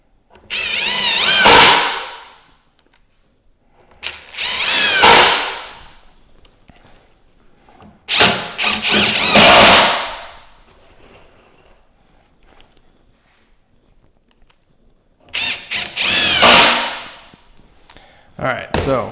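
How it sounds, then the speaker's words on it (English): A cordless power drill drives 2.5-inch wood screws into a wooden outdoor bench frame, giving four separate close whirring bursts, each lasting a second or two, with quiet gaps between. "So we will go ahead and screw this frame together."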